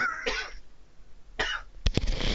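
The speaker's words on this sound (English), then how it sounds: "I'm just having a bit of a coughing fit." Several harsh coughs in quick bursts, close to the microphone, the last ones coming hard and fast together.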